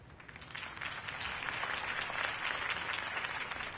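Applause from a crowd at a campaign speech in the Batman Telltale game swells into sustained, dense clapping that stays strong to the end, heard without voices.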